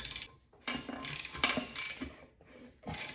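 Engine crankshaft turned by hand during a teardown to push a piston out, with short ratcheting, clicking mechanical bursts broken by brief pauses, close and fairly quiet.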